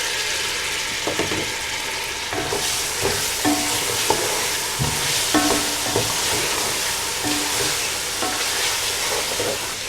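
Tomatoes and chopped green chilies stir-fry in a pan for mutton yakhni pulao, with a steady, close, loud sizzle broken by repeated scraping and clattering strokes of a spoon as the mixture is stirred.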